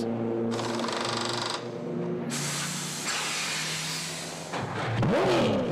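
A Ford race car engine at the 24 Hours of Zolder drones loudly, shifts pitch, then swells and fades as it passes close by, with no talking.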